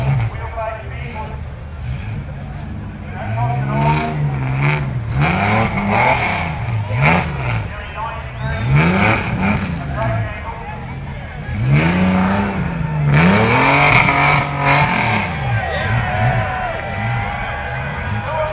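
An off-road vehicle's engine revs hard in repeated rising and falling surges as it climbs up and over tyres at a mud event, loud and close, with a crowd and a commentator talking in the background.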